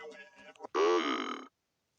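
A loud, drawn-out burp lasting about three-quarters of a second, preceded by brief speech and shuffling, then silence.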